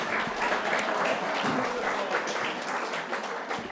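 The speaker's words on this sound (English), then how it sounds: "And yeah, applaud that." A forum audience gives a brief burst of steady applause that fills the room, dense and moderately close, then begins to thin toward the end.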